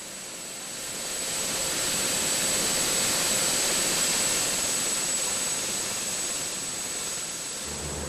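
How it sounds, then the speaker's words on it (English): A Eurocopter helicopter fitted with a new next-generation flap rotor runs under test, giving a loud, steady turbine whine over a constant broadband roar that holds throughout without a break. "Here we're testing the new flap rotor, a next-generation rotor that will help us to fly even more quietly and efficiently."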